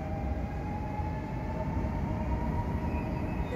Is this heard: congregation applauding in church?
no